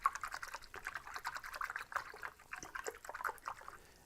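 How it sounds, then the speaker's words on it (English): Wood-ageing powder is stirred into water, producing close, continuous liquid swishing and sloshing in an uneven rhythm of repeated pulses, fairly quiet, with no speech. "and you stir it up in water."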